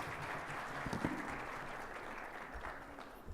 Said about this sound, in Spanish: Nuestro aplauso reiterado a quienes han sido partícipes de esta conferencia y de este panel